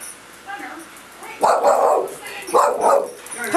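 A dog barks inside a dog bakery, giving a few short, close barks in quick succession while people talk warmly over and around them.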